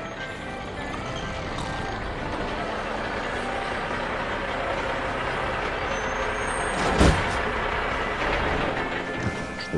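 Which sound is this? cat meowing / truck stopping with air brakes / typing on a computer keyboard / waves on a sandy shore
truck stopping with air brakes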